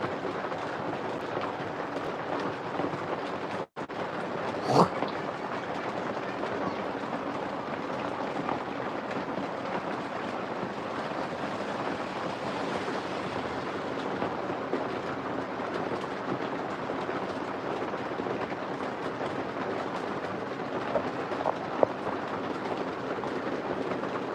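Rainwater rushing steadily through a street gutter, a dense, even roar lasting the whole stretch, with a brief knock partway through.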